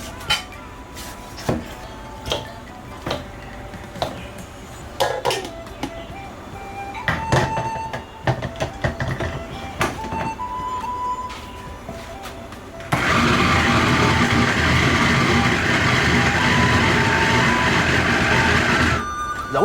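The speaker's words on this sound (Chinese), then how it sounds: "今天我要偷个懒，用料理机来打肉馅" Pork being minced in a kitchen food processor: scattered knocks and clatter come first, then the motor kicks in as a loud, steady, close whirring roar that continues to the end.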